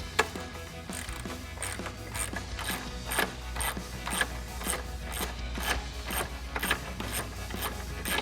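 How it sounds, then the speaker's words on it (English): A hand ratchet with a 13 mm socket loosens an intake box bolt on an F-150, giving a rapid, continuous run of close, crisp pawl clicks with no talking. "Got a 13 millimeter socket on it."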